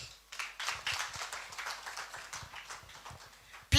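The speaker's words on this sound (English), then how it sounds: "Please give him a better clap as he comes" An audience at the Kabete National Polytechnic TVET centenary celebration claps as a guest of honour walks up to speak. The patter of many hands is soft and distant, continuing steadily for a few seconds before a sharp knock at the end.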